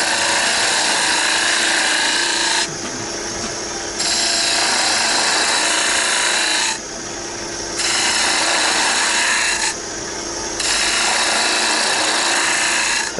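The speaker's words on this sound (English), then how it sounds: "I'm going to get the spindle gouge back now and start to clean the material" A spindle gouge cutting a spinning wine stopper blank on a wood lathe, a loud, steady hiss of shearing wood broken by three short, lighter passes, close up.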